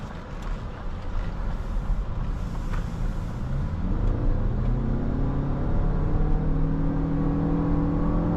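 A 2024 Lexus RX 350h Premium Plus hybrid accelerating, heard from inside the cabin as a steady low drone and road rumble that grows louder and rises in pitch partway through, with wind noise and no speech.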